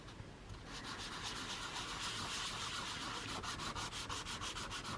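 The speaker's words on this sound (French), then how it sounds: "on vient gratter le pastel" A dry pastel stick is scraped, its powder falling for a coloring demo, a continuous close gritty rasping with rhythmic strokes toward the end.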